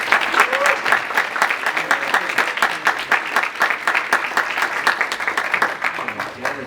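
An audience claps for a conference organiser at a closing session, loud and close, with rhythmic individual hand claps clearly audible in a continuous burst that holds throughout.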